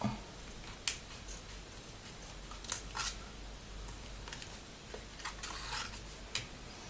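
Scissors snipping around a paper piece for a small backpack project, a series of scattered crisp cuts spaced irregularly over a soft background hiss, close and quiet.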